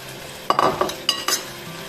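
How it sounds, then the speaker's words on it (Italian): Drained potatoes browning in a pan with cherry tomatoes, a soft steady sizzle broken by a few sharp clinks and scrapes of a utensil stirring against the pan. "aggiungere le patate ben scolate e farle rosolare per una decina di minuti circa"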